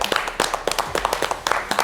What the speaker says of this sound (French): Et rien que pour ça, nous vous applaudissons.